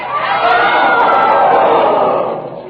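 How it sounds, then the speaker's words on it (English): A dense crowd roars and shouts in protest at the burning of Joan of Arc in a 1948 radio drama, loud and continuous before fading slightly at the end. "The crowd has reacted in one great convulsive protest"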